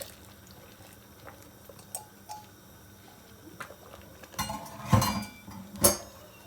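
Aşure stirred slowly in a pot on the stove as milk is poured in: soft scattered clinks of a spoon against the pot, then louder liquid sloshing and scraping near the end, close up and without talk.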